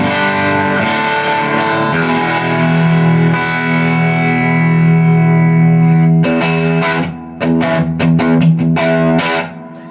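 Distorted electric guitar played through an IronHorse Heritage 45E prototype amp with input at 5 and output low, sustained gritty chords ringing out, then choppy strummed hits near the end, loud and close with no talking.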